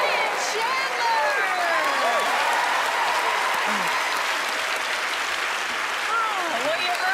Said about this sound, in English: you earned that applause